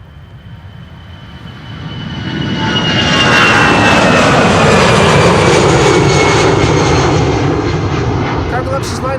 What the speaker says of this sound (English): EasyJet is going.